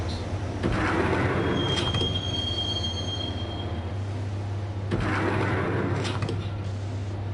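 A subway train ride in the video game Max Payne: a steady low rumble of a moving carriage with a thin, sustained wheel squeal and a loud rattling surge partway through, heard alone without voices.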